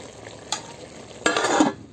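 A ladle scrapes and stirs chicken curry in a clay pot cooking over a wood-fired stove, giving two short scraping bursts, the second longer, over a faint background sizzle.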